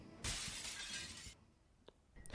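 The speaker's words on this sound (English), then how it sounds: "I was jolted awake by the sound of a window breaking" A glass window shatters in a sudden burst of bright crashing hiss lasting about a second, followed by a few faint tinkles of falling shards, fairly quiet and without voices.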